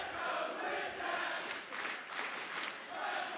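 Sustained cheering and shouting from a big audience at a charity speedrun event, a dense wash of voices rising in brief surges and holding loud from start to finish.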